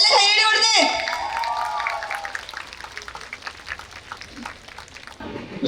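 Audience applause at a hospital's celebration day as the chief guest is invited to inaugurate, a brief voice at the start giving way to several seconds of steady, moderately loud clapping from the crowd.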